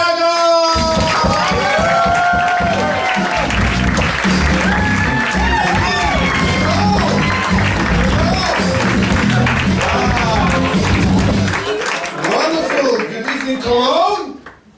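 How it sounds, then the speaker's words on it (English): Crowd at a comedy night cheers, whoops and claps loudly as a comedian is welcomed onstage, with voices and excited shouts mixed into sustained applause before it dies away. "give it one nice warm of applause for Edo Berger"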